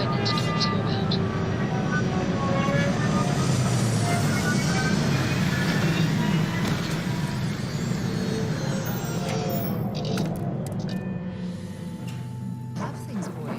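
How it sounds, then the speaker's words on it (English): A spaceship in the video game Starfield sets down with its retro thrusters firing: a loud, steady rushing roar that holds for several seconds, then eases and thins toward the end. "Landing struts primed. Retros fired."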